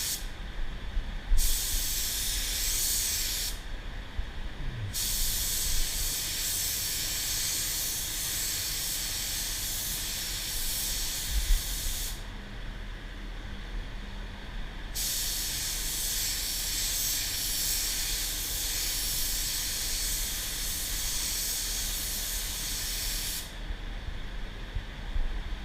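A DeVilbiss GTI 110 spray gun lays down clear coat in long hissing passes, a steady broad spray broken by short pauses between strokes, close and loud with no talking.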